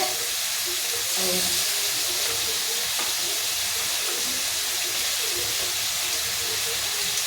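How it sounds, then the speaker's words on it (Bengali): Mutton cooking in a pan, a loud steady hissing sizzle filling the whole stretch with faint clatter underneath. "খাসি মাংস, মটন, এদের মটন রান্না হচ্ছে"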